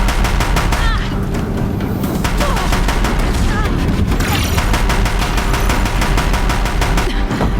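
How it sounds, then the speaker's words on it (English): Deathbringer war machines from the game Horizon Zero Dawn pound a bridge with rapid, sustained machine-gun fire, a loud relentless stream of shots with booms, and a voice talks faintly beneath it. "If the Deathbringers keep firing, this bridge will go."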